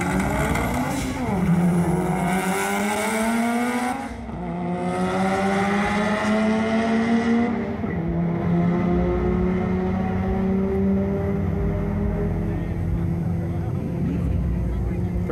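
An 2002 Subaru WRX and a rotary-powered Mazda RX-7 FD drag race at a late-night strip, loud engines revving and rising in pitch through gear changes, with a brief dip before the roar carries on.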